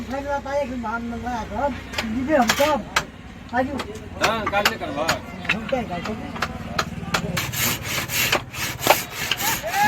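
Carpenters in a village workshop build furniture, and repeated hand-saw strokes rasp through wood in an uneven rhythm while someone talks over the work throughout.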